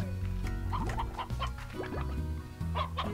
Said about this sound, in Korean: 닭이다.